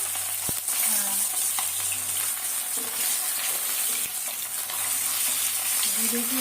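Steady, dense sizzling of tilapia fish frying in hot oil, crackling continuously at close range with faint background hum.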